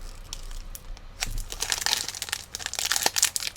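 A Digimon Card Game Great Legend booster pack wrapper being opened makes close, continuous foil crinkling and tearing, with irregular crackles growing busier toward the end.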